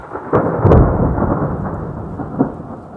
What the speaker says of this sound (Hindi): जैसे जैसे शाम ढलने लगी, तूफान और बढ़ने लगा